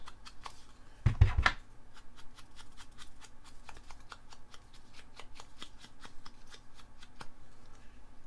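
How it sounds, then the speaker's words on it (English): Paper being torn along its edges for a scrapbook layout: one short, loud ripping burst near the start, then quiet handling with faint regular ticks in the background. "I turn it round the opposite way and just tear"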